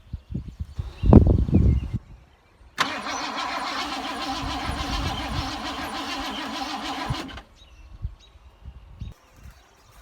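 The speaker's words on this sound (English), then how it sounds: "Let's see if it'll turn over with the key." A 1986 Ford F-150 pickup that has sat for 20 years cranks over on the key, a steady whirring starter drone lasting several seconds after some handling noise, then stopping without firing.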